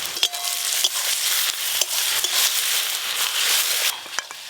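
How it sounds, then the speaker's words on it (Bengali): Ginger, garlic and green chili paste hits fried onions in a pan, giving a loud, steady sizzle with short scraping stir strokes at irregular intervals and no talk. "পেঁয়াজ ভাজা হয়ে গেছে, এবার আদা রসুন আর কাঁচা লঙ্কা বাটা দিয়ে দেবো।"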